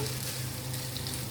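Pasta frying in a pan with magic masala gives a steady, close sizzle that crackles continuously and evenly from start to finish, with no voices.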